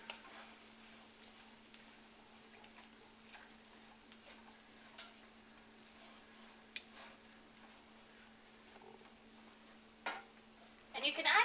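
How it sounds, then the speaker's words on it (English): A crumbled cornbread dressing mixture is stirred in a big pot with soft, quiet scraping and light sizzle, ending with a brief louder clatter of utensil against the pot. "I'm just going to mix it all together in this big pot"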